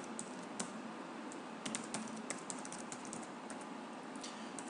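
Quiet, nearby typing on a computer keyboard while filling in a wiki signup form, with irregular clusters of key clicks and no voices.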